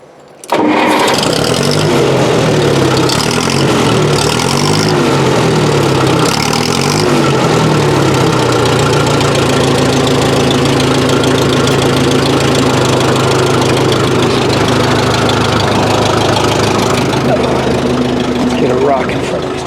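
A Case CK 530 backhoe's engine cranks and catches, then runs loud and close with a rough, knocking idle that carries on steadily, with a voice speaking over it at points.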